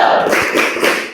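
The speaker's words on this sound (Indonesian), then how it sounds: "Tepuk semangat." A classroom group does a rhythmic spirit clap, sharp claps and taps falling in a short patterned sequence, close and fairly loud with no talk over it.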